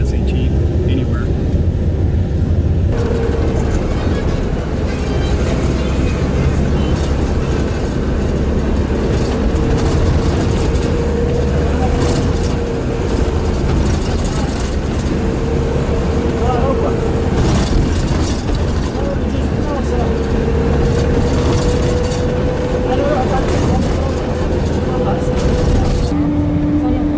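Street traffic in Ramallah rumbles continuously: car engines, passing vehicles and a droning roar heard from inside a moving vehicle, loud and steady throughout, with people talking over it.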